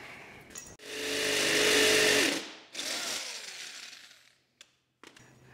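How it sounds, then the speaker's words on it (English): A hammer drill with worn, bad bearings runs in two loud bursts, whining with a rough, grinding rattle, followed by a few sharp knocks in a workshop. "Very rough sounding drill"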